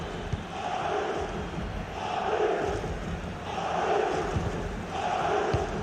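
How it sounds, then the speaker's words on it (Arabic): A stadium crowd in the video game FIFA 23 roars and chants during a Champions League match between Real Madrid and Bayern Munich, a broad sustained wall of voices swelling in rhythmic waves, loud and continuous without commentary. "استمع إلى أصوات الجماهير ترتفع في هذه اللحظات"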